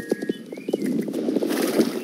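Horse hooves galloping in the online horse-riding game Star Stable Online, a quick rhythmic clip-clop of repeated hoofbeats, fairly close and steady, with a brief whinny-like tone early on.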